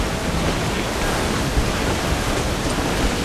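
Stormy sea waves in Assassin's Creed IV Black Flag, a dense, loud roar of churning water and wind that stays constant throughout, with no talking.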